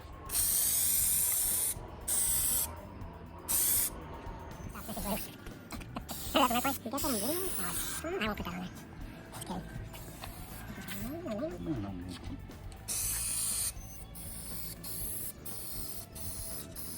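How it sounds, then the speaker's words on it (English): Bursts of contact adhesive spray hiss come and go in short blasts onto a motorhome laminate countertop, with mechanical rattling and a voice talking in between. "he's going to start spraying the top now"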